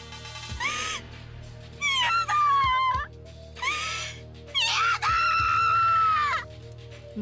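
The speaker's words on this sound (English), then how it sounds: "Good scream." Shrill, high screams from a visual novel game, in four separate bursts, the last one long and sustained, loud and close over a steady low musical drone.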